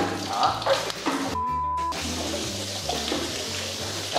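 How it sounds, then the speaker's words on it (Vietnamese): Water gushes steadily through a part of a customized Honda Win100 tracker motorcycle, flushing sand out in a continuous close rush, with a voice talking faintly underneath. "Các bạn sẽ xả nước vào."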